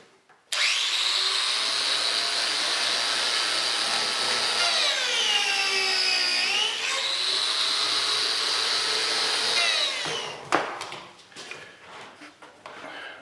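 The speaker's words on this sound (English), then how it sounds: "that'll support the strip as I cut the slots" A power tool cuts slots in a thin wooden strip, a loud, continuous high whine with the pitch dipping under load, then stopping abruptly, followed by light knocks and handling of the wood.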